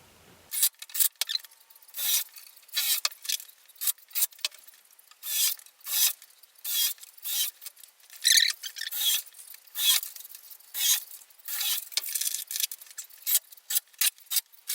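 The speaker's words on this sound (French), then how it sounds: "Pour plus que ça bouge, vous vissez toujours avec les vis de 50." 50 mm screws are driven into a wooden garden bed frame, giving repeated close creaking, rasping bursts in an uneven rhythm with short pauses between them, and no speech.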